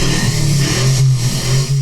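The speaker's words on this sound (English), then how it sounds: "No matter what car is on screen, it makes this engine sound." A generic stock film engine sound of a car revving, steady and loud throughout, with a sustained low engine drone that swells slightly as if the car is peeling away.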